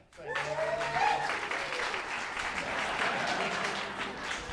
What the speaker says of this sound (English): And now let's give a round of applause for Isaiah.